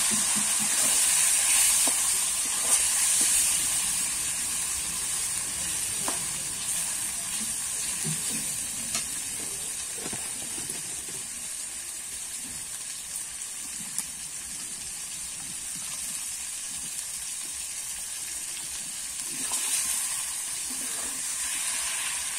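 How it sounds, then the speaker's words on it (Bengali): Chicken coated in turmeric and salt fries in a pan with a constant close hiss and sizzle, broken by occasional soft scrapes and knocks of stirring, and no one speaking. "দিয়ে কিন্তু আমি নেড়ে চেড়ে ভালো করে ভেজে নেব।"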